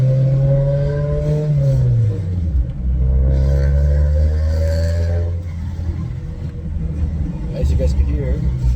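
A 2001-era Acura Integra DC4, just brought back to running order and with front tires that seem to fight each other, drives nearby with a loud, steady engine rumble that rises and falls, while someone talks over it.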